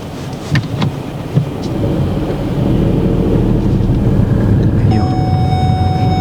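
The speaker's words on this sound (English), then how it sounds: "the rain on our screen is getting quite bad" Heavy rain drums steadily on a car during a driving test in traffic, a constant close wash of noise over the low engine hum, with a few faint clicks.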